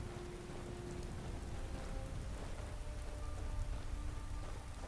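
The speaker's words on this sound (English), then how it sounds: "It looks like the rain is running down the lens of our camera." Rain falls steadily in the Skyrim video game, a dense, even patter and wash heard quietly, with a faint low rumble underneath and no voices.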